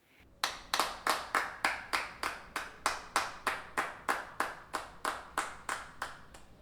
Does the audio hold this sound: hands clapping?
yes